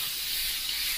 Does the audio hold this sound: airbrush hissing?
yes